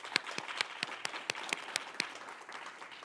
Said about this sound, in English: Big round of applause for those folks.